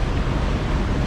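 Strong wind buffets the microphone over choppy water after a front has passed, with waves slapping close by in a loud, continuous rumble that has no pauses.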